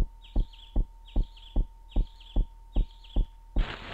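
Bird chirps in the PlayStation game LSD: Dream Emulator, given as a regular repeating pattern of short high twittering calls about every half second, each paired with a soft thump, and a burst of hiss at the end.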